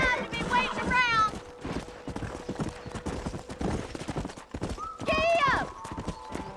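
Horse hooves galloping in the Red Dead Redemption video game, a rapid, steady clip-clop beating throughout, with brief whinny-like cries near the start and again toward the end.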